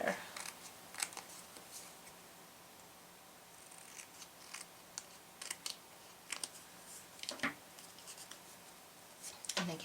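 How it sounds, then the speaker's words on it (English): Scissors snipping a small strip off the edge of a 12x12 scrapbook paper page for a mini album, several quiet, brief cuts scattered across the clip with faint talk and room noise. "This one's a little bit wide, so I'm just going to trim a little bit off of there."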